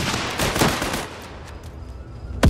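Gunfire in the Last Train Home war game: a flurry of sharp shots that fades into a quieter stretch, then a loud close crack right at the end.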